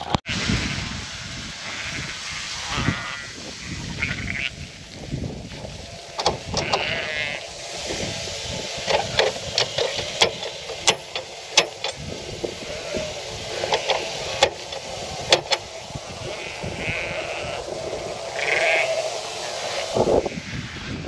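Ewes bleat repeatedly on a farm, several sheep calling in overlapping, irregular cries at varying distances, some loud and close, over a faint background hiss.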